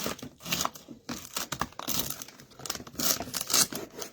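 Knife cutting the bottom end off a celery stalk at a kitchen counter, heard as a run of close crisp crunching, snapping and tearing bursts with some brief soft scraping.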